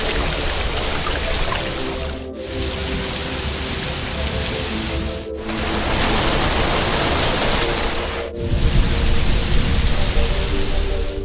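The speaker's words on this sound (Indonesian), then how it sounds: "Hujan beserta angin kencang telah turun" Heavy rain driven by strong wind pours down as a dense, continuous roar, loud and close throughout, with brief dips in intensity between gusts.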